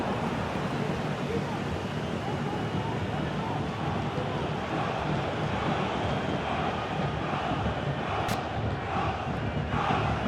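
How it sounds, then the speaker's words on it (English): Stadium crowd in the EA FC24 football video game, a dense, continuous roar that stays loud and steady from start to finish. "The crowd certainly think so. Just listen to that noise."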